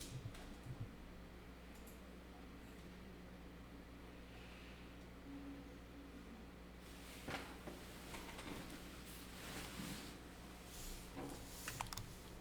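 Keys are pressed on a computer keyboard, including the Tab key, during accounting data entry. Soft, sparse clicks sit over a low steady hum, with a few clustered taps toward the end.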